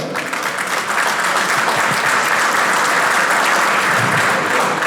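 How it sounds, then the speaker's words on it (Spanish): An audience applauds a speaker at a master class. The clapping is loud, dense and steady, with no break from start to end. "Les pido un fuerte aplauso para Jean Paul"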